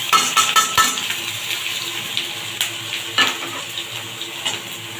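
Tomato, grated ginger and chilli being stirred in a hot pan, with quick scraping and clattering strokes over a low background sizzle, close and moderately loud, no voices.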